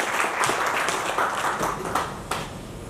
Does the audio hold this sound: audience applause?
yes